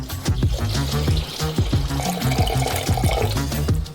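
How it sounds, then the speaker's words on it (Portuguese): Water, 200 ml, pours steadily into a pot holding sugar, a continuous splashing gush with gurgling bubbles, close and fairly loud. "Adicionamos 200 ml de água."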